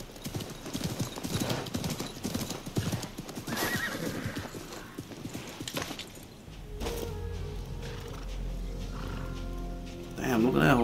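Hooves clip-clop at a gallop and a horse whinnies loudly near the end in the video game Assassin's Creed Mirage, with a voice talking over the first part.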